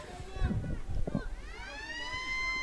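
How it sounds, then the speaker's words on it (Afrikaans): A siren rises and holds steady in the background during a Boland rugby match near the end of the first half, sounding over crowd noise and commentary. "Soos julle hoor, daar gaan die sirene af daar in die agtergrond."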